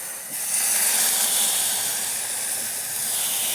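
Masala sizzles as it is sautéed in a pan, a steady close hiss and crackle of frying that holds at an even level throughout.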